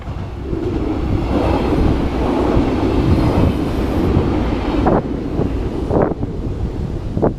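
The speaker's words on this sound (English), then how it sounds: "there goes one of those trains that I ride." A train rumbles past along the Danube River with steady low roar and wind buffeting the microphone, a few clanking transients near the end.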